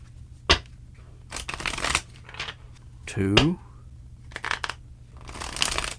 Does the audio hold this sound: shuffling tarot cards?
yes